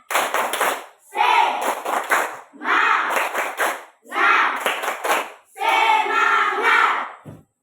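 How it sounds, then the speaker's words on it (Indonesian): Children in an Indonesian classroom perform a rhythmic spirit clap, with five distinct bursts of group clapping and chanting separated by short pauses, loud and close. "tepuk semangat."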